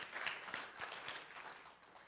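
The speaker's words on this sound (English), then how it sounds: "Let's give them another round of applause." A church congregation claps after a dance performance, a faint, distant patter of applause that swells briefly and then thins out.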